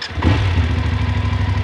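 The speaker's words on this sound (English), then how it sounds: "we're gonna hear that engine sound. It's a little bit hairdryer-like." A BMW GS motorcycle's boxer engine cranks and catches, then settles into a steady, rapid idle pulse, loud and close with no talk.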